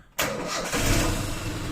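A car engine cranks and catches, then settles straight into a steady, loud idle close by, with no talking over it.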